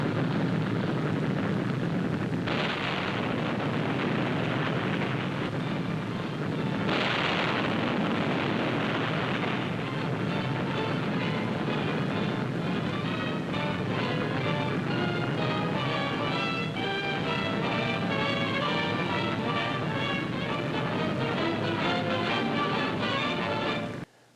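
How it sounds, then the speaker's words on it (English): Bombs, rockets and small-caliber ammunition exploding aboard the burning World War II aircraft carrier USS Franklin, heard as a continuous loud roar of blasts and rumble with sharp bursts near the start, sustained without pause. "The fire raged as bombs, rockets, and small caliber ammunition continued to explode with increasing violence."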